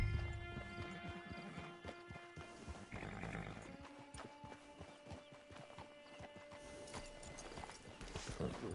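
Horse hooves clip-clop steadily in Red Dead Redemption 2, a continuous rhythmic trot close by, with a brief whinny and soft game ambience behind the footfalls and no talking.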